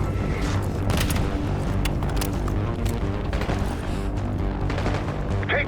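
Battle in Call of Duty Black Ops 6, with dense, continuous gunfire and repeated mortar booms and crashes layered together at a loud, steady level throughout.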